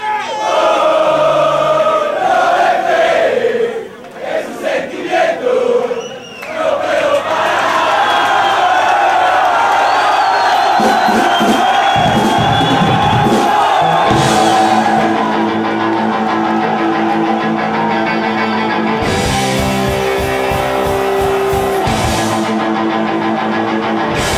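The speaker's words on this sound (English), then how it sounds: "The crowd was so loud, they were packed in like sardines, they were chanting at the top of their lungs." A tightly packed crowd at a punk rock bar show in Argentina roars and chants loudly and continuously, with bursts of cheering and music-like tones cutting through the dense, near crowd noise.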